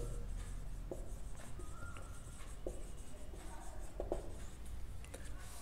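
Pen or chalk strokes are faint and sparse as the centre and radius of a sphere are written out, with a few soft scratches over a steady low background hum and no clear speech.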